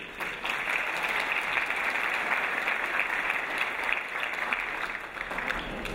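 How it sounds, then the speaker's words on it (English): An audience applauds at a college Dean's List ceremony in a performing arts center, a steady, full roll of clapping from a seated crowd that holds evenly for several seconds. "So we can clap for that."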